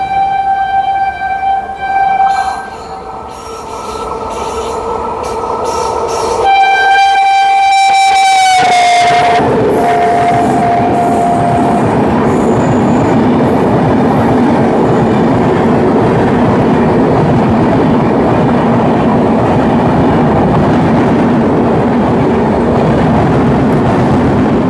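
An IRCTC Tejas Express overtakes the Amrit Bharat Express, heard as a loud, steady roar of rolling wheels and rail clatter lasting throughout, with horn tones sounding in the first several seconds.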